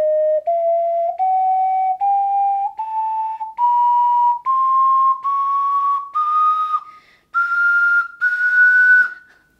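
Cheap $19.99 ocarina from Amazon played in a rising stepwise scale, one clear whistly note after another. It is loud and close, with the tone growing brighter and shrill toward the top.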